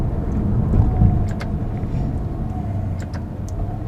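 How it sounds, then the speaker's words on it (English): A 2014 Maserati GranTurismo Sport's exhaust while driving, a deep, steady rumble and drone with a faint higher engine whine above it, loud and continuous with no talk. "And then the exhaust's a lot more prominent"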